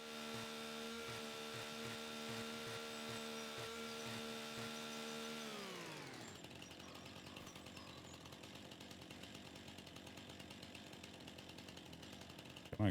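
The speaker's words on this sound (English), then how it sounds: "Jump with the chainsaw's fine, just don't do it at home." Chainsaw in Farming Simulator 25: a steady, buzzy two-stroke drone with a pulsing low throb runs for about six seconds, then winds down and drops away, leaving quieter mechanical clatter and ambience and a brief loud thump at the very end.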